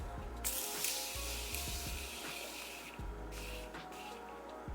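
Several short bursts of fine setting mist hiss from a pump bottle, spaced a second or so apart, close and fairly quiet.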